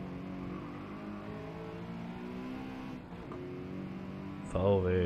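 A car engine revs and accelerates steadily in the racing game Gran Turismo 7, droning loud and continuous with shifting pitch throughout, with a sharper surge near the end.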